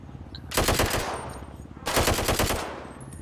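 Two bursts of rapid automatic gunfire in a video game, each lasting over a second, loud and close, with a short pause between them.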